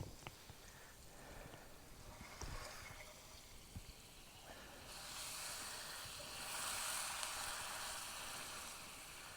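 Pre-made gnocchi fry in a hot pan, browning slightly, giving a steady soft sizzle and hiss that swells louder and brighter halfway through, with no talking.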